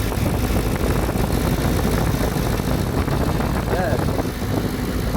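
An Audi C5 4B 4.2 V8 Quattro engine runs steadily after an intake manifold and non-return valve repair, giving a loud, continuous idle rumble with a faint whine and a voice talking over it.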